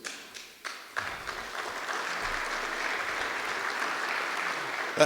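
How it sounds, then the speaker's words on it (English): An audience at a Jefferson County State of the County address applauds, starting with a few scattered claps that quickly swell into sustained, even clapping from a large crowd filling the room, with faint murmurs underneath. "That applause was for Tracy."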